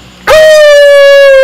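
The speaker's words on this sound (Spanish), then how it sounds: "Vamos con el sonido de el lobo." A wolf howl starts abruptly and holds one long, loud, sustained rising-then-level tone that continues clear and alone to the end.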